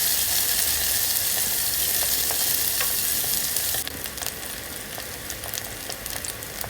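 Chopped onion sautés in hot oil with fennel seeds and curry leaves for a village-style field bean masala fry, a dense close sizzle with light stirring scrapes that drops noticeably quieter about halfway through.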